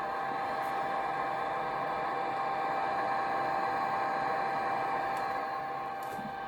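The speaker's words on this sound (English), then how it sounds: "This is the sound of the air that is coming inside the mask" Steady airflow hiss of air flowing into a powered respirator mask, a constant soft rushing with a faint mechanical hum underneath, unchanging for several seconds.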